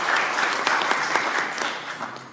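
An audience claps at an Indonesian political event announcing a vice-presidential candidate, a steady burst of applause filling the room for a couple of seconds, with no voices over it.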